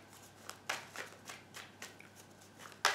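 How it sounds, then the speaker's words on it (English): Tarot cards being shuffled by hand in a quiet room, a series of crisp riffling bursts spaced about every half second, ending in a louder snap. "Okay, so we've shuffled the cards"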